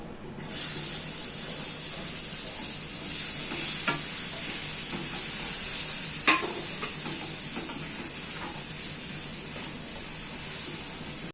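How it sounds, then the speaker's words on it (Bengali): A small chopped tomato and two slit chillies fry in a pan, a constant bright hiss of oil with a few sharp spatula clacks and stirring scrapes over it, no voices. "এবার টমেটোটাকে একটু সফট করে ভেজে নেব"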